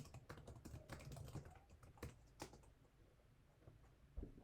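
Someone types a command on a computer keyboard, with quick irregular key clicks and a few sharper strikes that sound close and fairly quiet.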